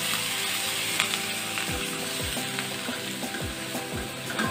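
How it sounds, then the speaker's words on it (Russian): Champignon mushrooms with chopped garlic, salt, black pepper and cilantro sizzle in a frying pan while being stirred, a close steady frying hiss broken by repeated scraping strokes of the spoon. "Перемешиваю так, чтобы чеснок распределился равномерно по всей сковороде с грибами."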